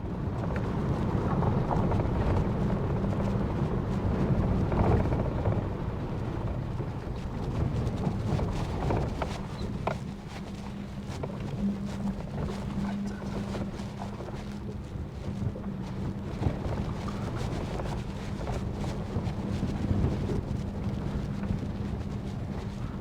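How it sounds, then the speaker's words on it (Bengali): Cold wind blows at high altitude near Kunzum Pass in Spiti, a steady low roar buffeting the microphone for the whole stretch with no pauses and no voices. "কি সুন্দর ঠান্ডা হাওয়া দিচ্ছে"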